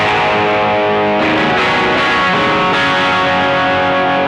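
Yamaha Revstar RS502 electric guitar with P90 pickups played through heavy distortion, sustained crunchy chords with a couple of fresh strums midway, loud and close with no talking.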